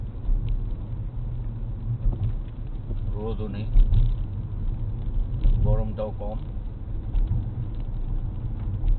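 A car drives at night over a rain-wet flyover in light drizzle, with a steady low road rumble and tyre hiss running throughout as people talk inside.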